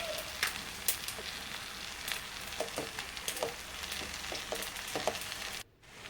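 Spiny gourd curry with chili powder sizzles steadily in a pan while a spoon stirs it, adding scattered scraping clicks over the constant crackling fry. The sound cuts out abruptly near the end.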